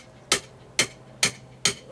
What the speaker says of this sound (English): I could hammer my rebar in.